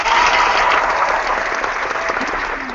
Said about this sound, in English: So let's all clap for her.